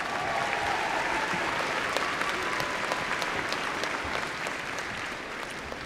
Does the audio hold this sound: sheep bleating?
no